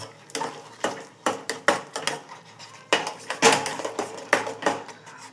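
Ragi halwa (nachni shiro) being stirred in a pan, giving a run of uneven scraping and clinking strokes of a spoon against metal, fairly close and with no talking.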